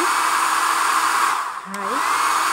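A Philips hair dryer blows with a steady, loud broadband roar that fills the whole stretch, dipping briefly near the end as a short tonal whine rises and fades.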